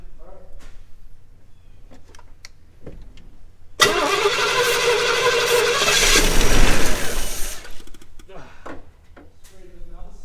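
Old car engine in an abandoned garage cranks for several seconds with a loud, steady churning whir, injectors not firing so it never catches; people talk before and after.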